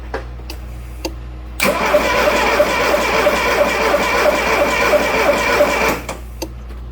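A Shelby GLHS clone engine cranks steadily for about four seconds without firing, a loud, close, even churning that starts and stops abruptly, with a few faint clicks before and after.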